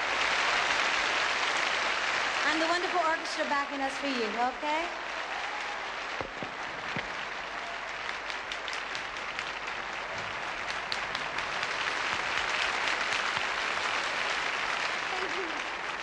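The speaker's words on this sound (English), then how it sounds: "give a warm round of applause" Sustained applause from a live concert audience in a large convention hall, filling the room loudly throughout, while someone speaks over the clapping to introduce the orchestra.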